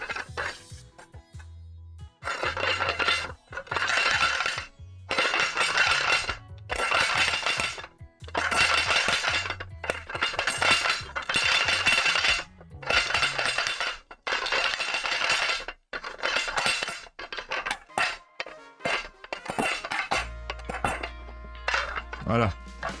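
Dishes clink and clatter in a sequence of separate bursts of ceramic rattling and chinking with short quiet gaps between them, close and fairly loud, ending in a low hum.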